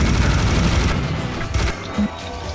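Rapid bursts of gunfire in the video game Serious Sam HD: The Second Encounter, with booming impacts, dense and loud, continuing across the whole stretch with a few brief lulls.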